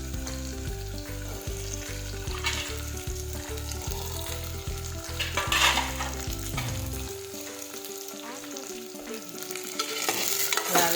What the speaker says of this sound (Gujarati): હવે આપણે ગુવાર અને બટેટા સમારેલા નાખીશું.